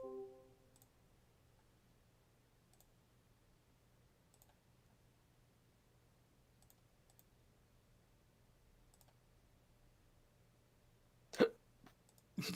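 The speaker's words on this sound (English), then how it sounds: "Hiccup and a burp." A single sharp hiccup-like burst stands out near the end of a long, quiet stretch of low background hum with faint scattered clicks; no talking is heard.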